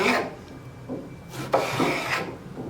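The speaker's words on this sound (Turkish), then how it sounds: "Çok aşırı derecede kalın olmadan uzunlamasına kesiyorum." A knife rasps lengthwise through a vegetable on a cutting board, giving close, dry scraping strokes with short gaps between them and no talk.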